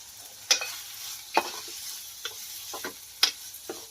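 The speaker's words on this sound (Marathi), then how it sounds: "झाली आहे गाबोली फ्राय." Fried fish roe (gaboli) being stirred in a pan, a few sharp spoon scrapes and taps spaced about a second apart over a faint, low sizzle, close and without speech.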